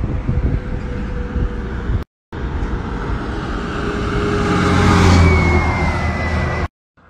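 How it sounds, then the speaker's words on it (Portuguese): A truck roars under hard throttle on the road, its engine note climbing loud and close as it surges past, with a brief cut-out mid-clip and another near the end. "Você tá doido, esse caminhão vem no gás aqui"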